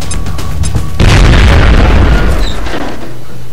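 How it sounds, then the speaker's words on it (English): A grenade goes off in the video game XCOM: Enemy Unknown: one sudden, loud, deep boom that rolls into a long rumbling decay and fades over a few seconds. "Throwing grenade!"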